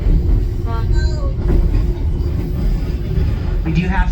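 Train on the White Pass railroad near Skagway, Alaska, passing with a loud continuous low rumble and rolling rail noise, some faint squeals and clatter on top.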